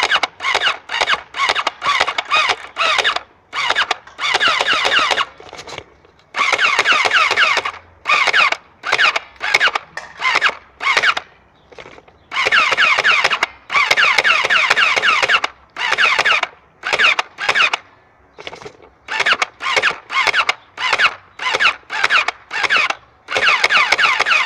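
Hydrogel Uzi gel blaster firing rapid bursts at cone targets 12 metres away, loud rattling volleys of varied length separated by short pauses, repeated throughout with no talk.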